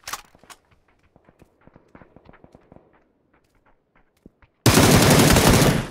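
Gunfire in the battle royale game PUBG: a run of sharp single shots and clicks at irregular intervals, fairly faint, then a sudden loud sustained roaring burst near the end, no talk.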